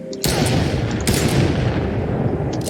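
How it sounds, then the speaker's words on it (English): A weapon fires in an Unreal Engine 4 bot fight simulation game: a loud, dense burst of rapid gunfire that runs through the whole moment, with a second sharp onset partway through. "This weapon can shoot in the hip pose and the iron sight pose."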